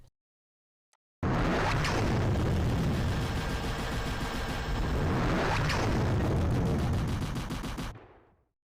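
Custom thermal cannon sound effect made for a Crusader tank: a loud, sustained roaring blast of gunfire-like noise lasting about seven seconds, with two swelling surges, then cutting off abruptly.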